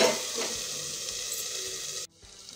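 Okra (bhindi) fries in a pan with a steady, moderate sizzle that cuts off abruptly after about two seconds.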